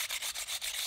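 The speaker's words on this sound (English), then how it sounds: "I'm wet sanding here" Wet sanding a bisque-fired ceramic leaf soap dish, a close, gritty rubbing in quick back-and-forth strokes with brief pauses between passes.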